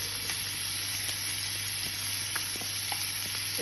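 Vegetables and bacon fry in a pan for a pasta dish, giving a steady, close sizzle with occasional soft crackles and stirring clicks throughout.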